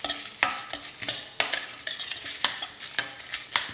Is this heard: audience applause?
no